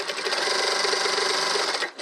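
A sewing machine runs a long continuous seam along a tailored coat's lining at a 1 cm seam allowance, a steady close whirring that stops abruptly near the end.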